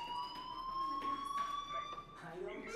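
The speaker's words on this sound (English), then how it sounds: "Hey, do you hear that fire alarm?" A fire alarm drones in the video game Life is Strange, a steady high electronic tone holding throughout, heard quietly beneath people talking.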